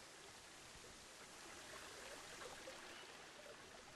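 A small stream runs through an animal enclosure in the video game Planet Zoo, giving a quiet, continuous trickling and babbling with no pauses.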